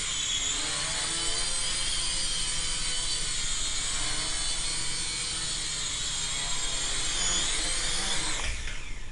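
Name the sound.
Syma X5SW quadcopter drone flying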